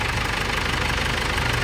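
Engine knocking at the air cleaner of a 2011 Ford Everest that stalled while driving: a loud, steady, rapid pulsing knock over an even idle rumble, heard up close with no talking.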